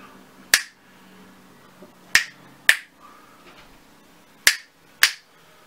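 Fingers coated in sticky Electro Putty toy are snapped apart, five sharp, close snaps spaced irregularly over a few seconds with quiet gaps between.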